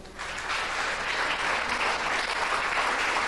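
A church congregation during a Christmas service bursts into sustained, loud applause that swells quickly and holds as a thick, even roar of clapping.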